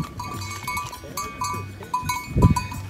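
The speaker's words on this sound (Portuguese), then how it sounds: "olha os borregos aí se separando sozinho" Lambs and sheep bleat on a farm where ewes are fed forage cactus, several short calls scattered over low rustling and faint talk, with one louder, close bleat near the end.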